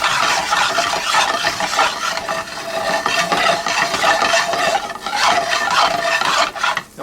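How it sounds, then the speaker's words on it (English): Butter melts and is swirled in a hot pan while hamburgers à la française are cooked, giving a steady, close hiss and gentle scraping that runs throughout with small dips. "And once the butter melts and stops foaming, but before it goes brown,"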